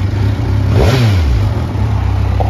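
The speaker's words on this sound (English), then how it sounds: "This is Kawasaki's full-size sport touring motorcycle. Has the 1000cc inline four-cylinder fuel-injected engine" A 2016 Kawasaki Versys 1000 LT sport-touring motorcycle with a 1000cc fuel-injected inline four-cylinder engine idles loudly close by, then briefly revs up and falls back to idle.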